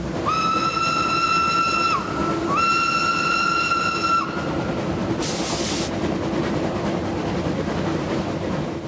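A steam whistle blows two long blasts over the steady rumble and clatter of a moving train, followed by a brief hiss of steam.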